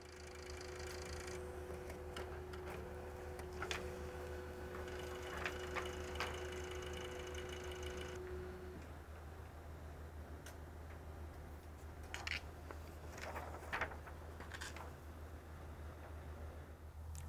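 An OKI Pro 8432WT printer prints onto transfer paper with a steady mechanical hum and a sustained whine that cuts out halfway, followed by intermittent clicks and ticks.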